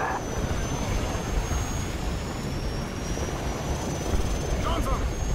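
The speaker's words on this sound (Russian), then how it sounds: "Отлично! Вертушка сбита." Helicopter in the Call of Duty Modern Warfare 2 video game, a continuous loud rotor and engine roar in a battle scene, with a voice talking over it.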